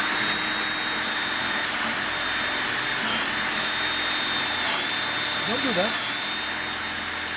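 A power drill boring holes into wood to a depth marked by blue tape on the bit, a steady, loud high whine running throughout, with a brief spoken remark over it.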